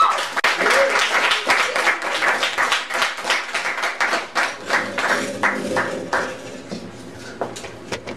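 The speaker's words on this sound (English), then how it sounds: "So please give Dominic a round of applause." An audience at a poetry reading claps in sustained applause, dense and lively, gradually thinning out toward the end.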